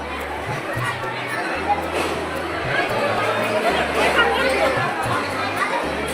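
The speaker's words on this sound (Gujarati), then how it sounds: "જો અહીંયા પણ એટલી બધી ભીડ છે" Crowd of devotees chattering at a busy temple, steady dense babble of many voices with a nearer person talking over it.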